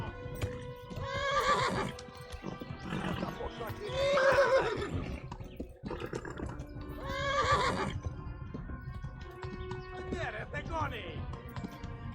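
Horses neigh and whinny repeatedly in a medieval-style video game, with hoofbeats clip-clopping underneath and people talking over the action throughout.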